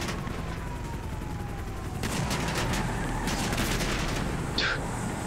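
Gunfire in the video game GTA Online: rapid bursts of shots crackle from about two seconds in, fairly loud over a steady background rumble, with a sharp single shot near the end.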